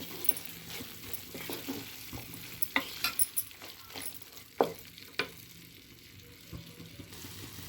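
A bean, tomato and eggplant curry stirred in a pan, soft background sizzle broken by several sharp utensil clinks and scrapes against the pan, fairly quiet and without talk.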